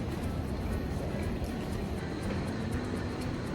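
Steady, broadband engine roar of a jet airliner heard near an airport gate just before boarding, a continuous even rumble throughout with no speech.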